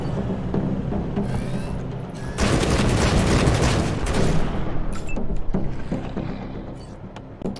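Gunfire in the video game Wasteland 3, a dense fusillade of rapid overlapping shots and booms swelling to a loud burst in the middle, then thinning to scattered reports over a constant game background.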